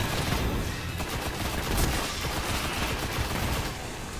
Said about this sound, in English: let's try out the shotgun.